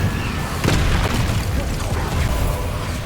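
Incendio fire spell blasts in Hogwarts Legacy, a loud burst with a booming low rumble that rolls on for the full few seconds amid dense game combat noise.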